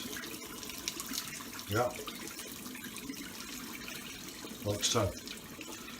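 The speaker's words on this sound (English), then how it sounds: "I'm going to turn the cold tap on" Cold water runs from a kitchen tap at low level, a soft steady flow with brief louder splashes as something passes under the stream, and a voice speaks briefly.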